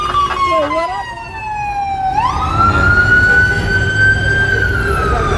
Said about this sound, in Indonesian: Suara ambulan. Suara ambulan ya.